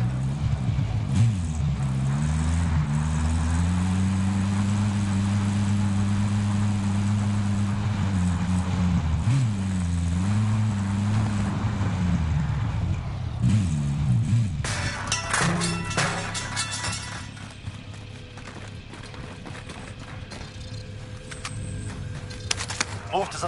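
A vehicle driven in Call of Duty: a steady engine drone that rises and falls with changes in speed, continuing under voices before giving way to rougher, noisier driving sounds.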